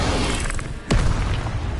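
An Incendio fire spell cast in the video game Hogwarts Legacy: one sudden whooshing burst partway through, standing out briefly over a steady background of game sound.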